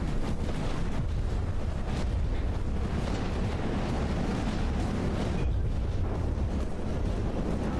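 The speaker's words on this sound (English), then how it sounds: "Looks like the torpedoes are actually getting through a bit now." Torpedoes hitting and exploding in the naval combat game From the Depths, a dense continuous rumble of overlapping blasts and booms, loud and without pause.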